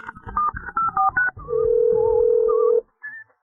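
Telephone keypad dialing tones for a call to the police: a quick run of short beeps, then a long steady tone and a brief final beep, heard alone.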